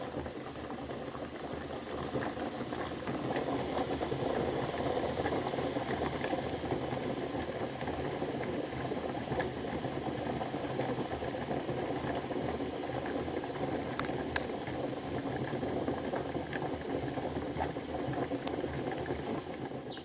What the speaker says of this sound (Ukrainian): Видите, як вона файно кипить.